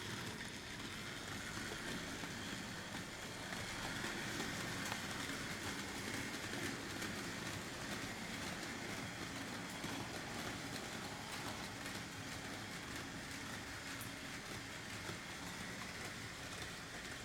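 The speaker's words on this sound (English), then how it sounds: "we're going to try and run the train with the 3356 only to see how it goes" A 1980s Märklin 3356 Crocodile model locomotive runs alone, pulling a train of matching stock. A faint, steady rolling rumble with a light clickety-clack continues evenly throughout, with no voices.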